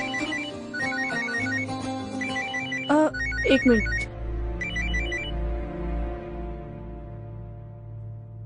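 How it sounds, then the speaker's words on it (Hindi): A phone's melodic ringtone repeats its short tune several times, near and clear, while a person briefly says a few words partway through. "यार कौन है जो इस वक्त फोन कर रहा है?"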